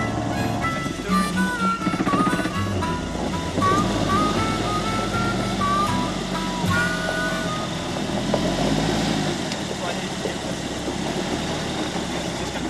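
A Suzuki 4WD driving through deep ruts, with its engine revving and labouring in uneven surges and whining higher in bursts, fairly close by, while faint voices sit underneath.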